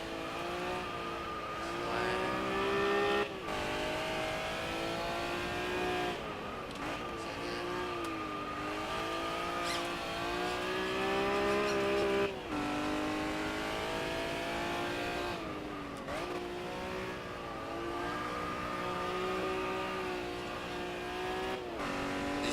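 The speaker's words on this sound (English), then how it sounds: "I like that skid sound that he's added in" A Niels NSX-R races in a driving game, its engine note rising and falling through repeated gear shifts, with tire skids mixed in. The sound is loud and continuous, and no one talks.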